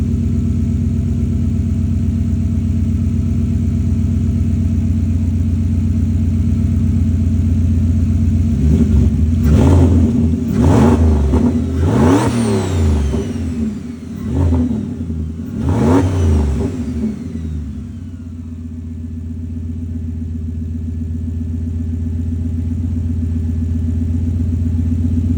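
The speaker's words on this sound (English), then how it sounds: "let's see if it goes whoop-shoo" A Maserati GranTurismo turbo engine, warmed up, idles steadily, then takes four or five sharp revs in quick succession that rise and fall back before settling into a smooth idle again, loud and close with no voices.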